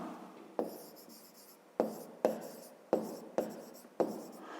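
Pen writing by hand during a fifth-grade maths exercise, heard as a series of six sharp scratchy strokes with short scraping tails, each separated by a brief pause, close and fairly loud in a quiet room.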